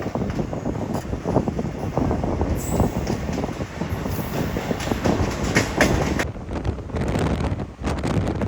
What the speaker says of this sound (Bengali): 2 মিনিট দাঁড়ানোর পর আমাদের ট্রেন ছেড়ে দিল জঙ্গিপুর।